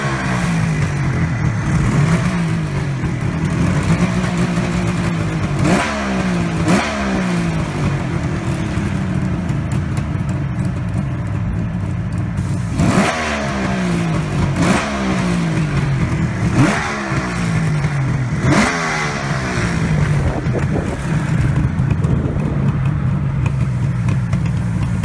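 A Suzuki two-stroke 738 cc three-cylinder motorcycle engine revving repeatedly, each blip rising sharply then falling back toward a steady idle, loud and close with no talk.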